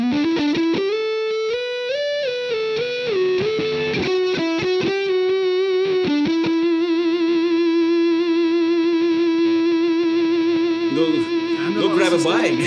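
Thick, fuzzy distorted electric guitar through an Orange Vintage Distortion pedal plays a sliding melodic line, then holds a long sustained note before a brief scratchy strum at the end.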